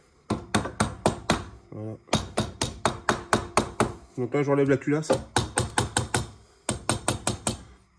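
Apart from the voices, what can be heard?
hammer tapping to loosen a Peugeot scooter cylinder head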